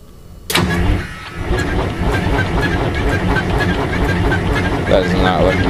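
An 853 engine, started for the first time in almost two years, cranks with a sudden loud burst and then holds a steady, heavy mechanical drone, close and loud to the end.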